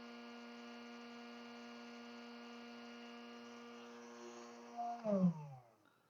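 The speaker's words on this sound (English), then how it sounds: "I do have a heat gun on high." A heat gun set on high, used to bend an acrylic stem, gives off a steady electric hum with a strong low tone. It holds evenly, then winds down and stops near the end.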